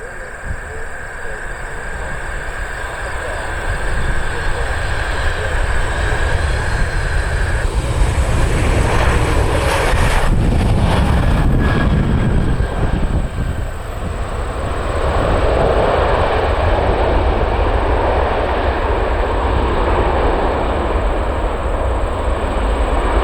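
Dubai Air Wing Royal Flight Boeing 747 and 737 BBJ jets landing, a loud sustained roar of jet engines swelling and lingering with a broad rumbling rush throughout.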